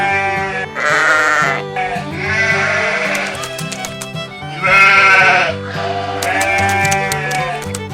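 Sheep bleat loudly and close by, four drawn-out wavering calls in a row with brief pauses between them.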